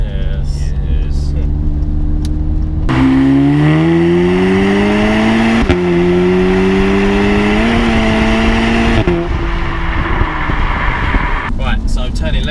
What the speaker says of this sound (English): Right, so turning left, Jonesy, if you wouldn't mind giving it the beans up this hill.